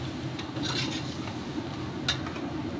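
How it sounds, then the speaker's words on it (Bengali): Sugar and spices fry in oil in a pot for mutton pulao, with a soft steady sizzle broken by a few sharp metallic scrapes and clinks of a stirring spoon, close by and without talk. "ভালো করে চিনির সাথে রং ধরা পর্যন্ত এটাকে আমি ভাজবো"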